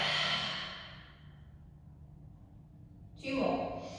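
A long, audible exhale during a yoga forward fold, a breathy sigh that fades out and leaves a quiet gap before the next breath begins.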